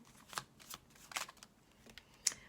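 A deck of cards is shuffled during a card reading, with soft riffling and several sharp slaps of cards dropping. The sounds are quiet and come in irregular bursts.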